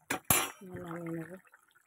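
A pot of Bengali fish curry finished with garam masala is lifted off a stove with two sharp metallic clanks, followed by a short scraping, rattling sound of the pot settling.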